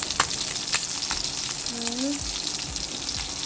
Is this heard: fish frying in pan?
yes